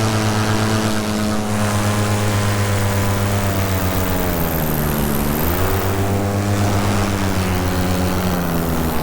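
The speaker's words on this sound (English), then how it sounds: "the motor sounds like an angry flock of hornets" A paramotor's engine and propeller drone loudly and continuously in flight, a buzzing, hornet-like whine with a slight pitch dip midway, heard close up without talk.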